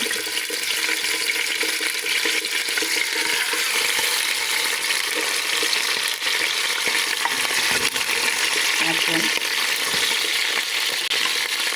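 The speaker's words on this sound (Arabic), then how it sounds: "هنا زيت يسخنت شويه، نحطو طراف تاع اللحم تاعنا يتقلى وياخذ اللون الذهبي" Pieces of meat frying in hot oil for a stew with potatoes, searing until golden: a loud, dense, continuous sizzle with fine crackling that holds steady from start to finish, close by, with no voices.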